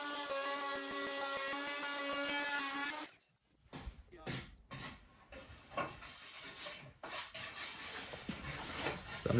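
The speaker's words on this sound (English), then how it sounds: "I'm just gonna sand that in, right? Kind of blend it." A wooden bench seat top being hand sanded, with a steady abrasive rasp first, then softer, intermittent scuffing strokes after a short pause.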